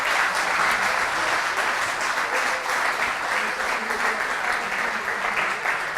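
Audience applause after a French conference talk on e-sport research, steady sustained clapping from a crowd filling the room throughout, with no break.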